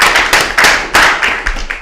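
Congregation members at a Memorial of the Blowing of the Trumpets service clap in short, loud, closely miked bursts, roughly rhythmic claps repeating about every half second.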